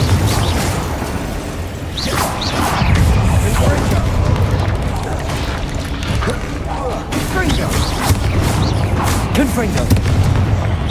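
Repeated Confringo spell blasts in Hogwarts Legacy, loud booming bursts layered over a busy combat soundscape, with a voice speaking over the fight throughout.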